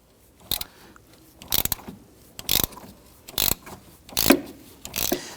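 A ratchet with a 12mm socket and extension loosens a bolt on the intake manifold of a 2011-2015 Kia Sorento, giving about six sharp, close bursts of clicking in a steady rhythm with quiet gaps between them.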